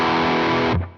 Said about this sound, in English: sounds like a Metal Zone pedal to me